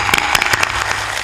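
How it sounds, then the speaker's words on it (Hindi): A group of people clap together at a devotional gathering, a short, loud burst of close applause. "ताली बजाते।"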